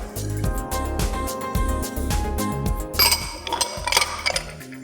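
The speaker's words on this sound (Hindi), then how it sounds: "ढक्कन ढाँक दीजिए और इसको दम पे हम छोड़ देते हैं।" A metal lid settles onto a cooking pot of chicken biryani with a few bright clinks and a ringing clatter near the end, close up over steady kitchen hum.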